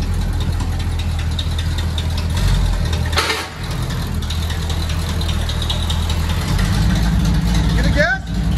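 A 1970 Chevy C10 pickup with open long-tube headers idles loud and steady nearby, a rough continuous rumble with a brief dip partway through.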